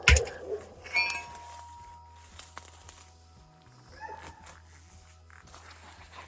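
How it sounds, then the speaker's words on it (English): Dogs bark a few times in a garden, sharp yelps near the start and again around the middle, with quieter clinks and rustling between and no speech. "My dogs are barking."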